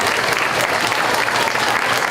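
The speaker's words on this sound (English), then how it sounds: "applause, everybody" A crowd at a county fair goat show claps steadily, a dense, even patter of many hands with no pauses, close and fairly loud.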